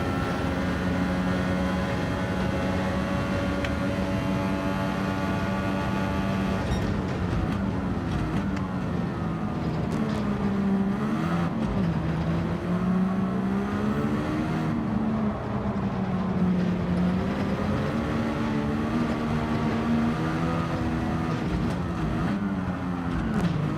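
Gran Turismo 7 F1500T-A race car engine driving, a steady loud harmonic drone with pitch swells and dips as revs rise and fall, continuous throughout with no talk.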